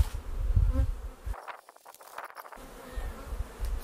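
Honeybees at an apiary in Piedmont, in late December, give a close, steady buzzing hum that fills the clip, dipping briefly in the middle before rising again.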